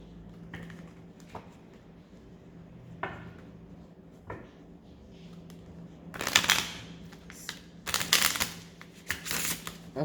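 Oracle cards being shuffled by hand, quiet intermittent riffles and taps at first, then louder bursts of rapid card flicking in the second half, close up in a quiet room.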